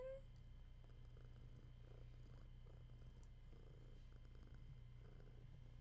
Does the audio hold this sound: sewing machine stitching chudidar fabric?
no